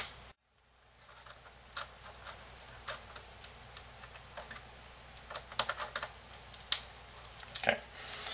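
A Phillips screwdriver turns a small screw on a laptop, giving soft, irregular ticking clicks up close. They grow denser and sharper toward the end, with a faint hiss behind them.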